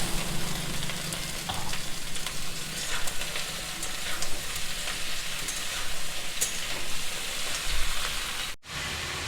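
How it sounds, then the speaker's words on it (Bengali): Pointed gourd sizzles and fries in a pan after potatoes, a continuous, close crackling sizzle with occasional stirring, dropping out briefly near the end. "আলুটা ভাজা হয়ে গেছে, এরপর পটলটা দিয়ে দিচ্ছি।"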